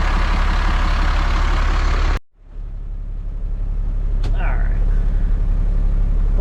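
A rusty used crane truck idles with a steady low diesel rumble, cutting out briefly before settling back into a constant throb, with a short squeal partway through.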